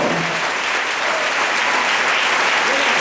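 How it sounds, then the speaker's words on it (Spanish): A church congregation applauds during a Spanish-language worship service, loud continuous clapping from a large crowd, dense and unbroken for the whole stretch. "¿Cuánto le dan un aplauso a Jesucristo"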